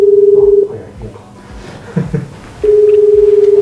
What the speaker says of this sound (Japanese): ここからダイヤルしましょう。